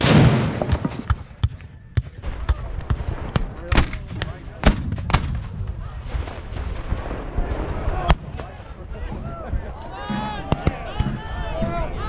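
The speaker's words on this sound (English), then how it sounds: "the Confederates gather over 50 cannons and begin to bombard the sunken road" A Confederate artillery barrage of massed cannons bombarding the sunken road at Shiloh, rendered as repeated loud booms and sharp blasts amid rumbling, chaotic battle noise with shrieking projectiles near the end.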